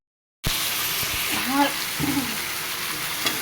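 Water is poured into a spiced curry masala in a hot pan. After a brief silence, a loud, steady sizzle and splash start and carry on with faint stirring scrapes.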